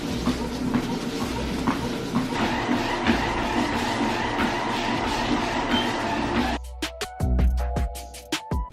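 SupeRun under-desk walking pad treadmill running at speed 3.0 gives a steady motor hum with rhythmic belt rumble and thuds, close and continuous, before cutting to a few sharp clicks and knocks.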